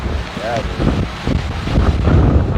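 Strong wind buffets the microphone at a sailboat race on cold open water, a steady loud rumbling roar with gusts, and a voice briefly heard over it.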